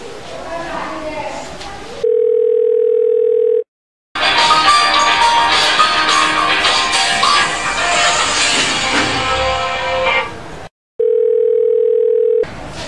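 An unanswered phone call in a Sylheti drama: a steady electronic ringback tone sounds in two separate bursts, with a louder, busier stretch of sound between them.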